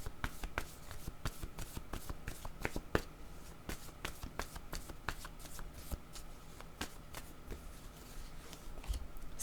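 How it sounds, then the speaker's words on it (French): Playing cards being shuffled in a divination reading, a rapid run of crisp riffling snaps and flicks, close and fairly quiet, continuing steadily with no talk. "Je vais demander une carte sur le père."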